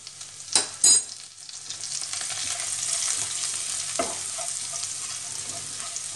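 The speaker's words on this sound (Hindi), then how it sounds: "इसमें मैं डाल रही हूँ 4-5 लहसुन की कलियाँ जो मैंने महीन महीन काट ली हैं।" Cumin seeds and finely chopped garlic sizzle in hot oil in a pan while dal makhani is being made, with a steady close frying hiss, a couple of sharp stir or drop clatters near the start and another around four seconds in.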